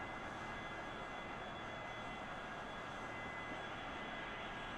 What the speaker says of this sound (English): going with more thrust to the plane